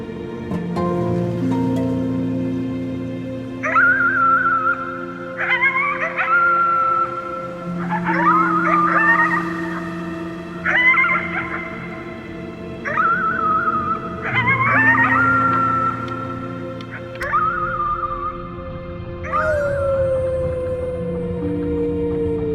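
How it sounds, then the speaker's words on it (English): Howling at the moon in the video game Before Your Eyes: about seven drawn-out, tonal howls in a slow repeating rhythm, each rising then falling, over a low sustained musical background. "You howled at the moon, at the top of your lungs"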